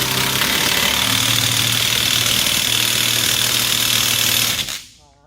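An impact wrench runs on the 29 mm axle nut of a 2000-2011 Ford Focus wheel hub: a loud, steady rattling drone lasting several seconds, then cutting off abruptly.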